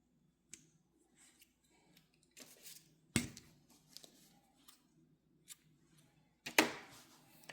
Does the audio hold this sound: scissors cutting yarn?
yes